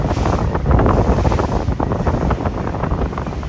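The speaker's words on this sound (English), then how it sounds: "I got a really strong wind blowing about 15 miles an hour going right into it." Strong wind of about 15 mph roars across the microphone in heavy, continuous gusts over the Cape Fear River on a boat, with faint lapping and splashing of choppy outgoing-tide water underneath.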